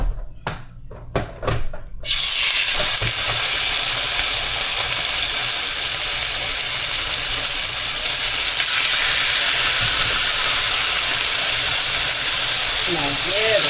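Pork chop hits a preheated pan and bursts into loud, steady sizzling that continues unbroken, preceded by a few brief clatters of handling.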